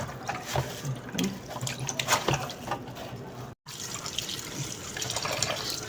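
A kitchen tap runs steadily while fish is rinsed under it in the sink. The water gushes close and continuously, with small splashes and handling sounds and a very brief break partway through.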